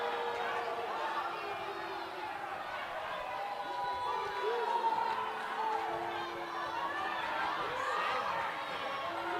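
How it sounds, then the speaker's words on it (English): A home crowd at a girls' high school basketball game, Cedar Valley at Lone Peak, reacts angrily to a traveling call. Agitated shouting and murmuring from the stands continues steadily, with some talk mixed in. "the home crowd is furious at that call"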